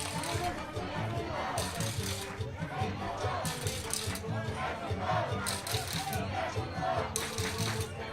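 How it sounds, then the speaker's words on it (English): Crowd at a FIBA 3x3 AmeriCup 2025 quarter-final basketball game cheers and shouts steadily, a loud arena roar beneath ongoing commentary. "Crowd getting into it."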